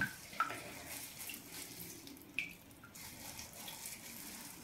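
Hot water running from a tap into a sink, a soft continuous splashing stream with a few louder clunks and knocks, close by and fairly quiet.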